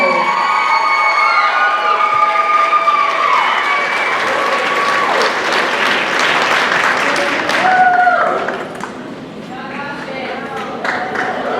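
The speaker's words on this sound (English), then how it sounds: "Let's give another round of applause as they're moving the table" Loud, sustained applause from an audience at a high school spring choir concert, continuing steadily with a few cheers and voices mixed in.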